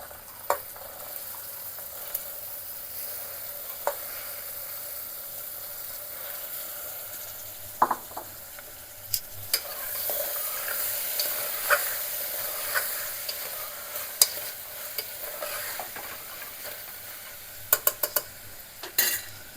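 Washed chickpeas fry with a steady sizzle in a hot pan while a spoon stirs and scrapes them, sharp metallic clinks popping out now and then, louder near the end.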